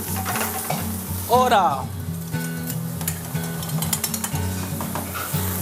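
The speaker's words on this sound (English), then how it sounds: "And also you can add garlic. And then you stir. You hear the sound?" Garlic and onion sizzle loudly in a hot pan while a utensil stirs them with clinks against the metal, over a steady humming background; a voice briefly says a word.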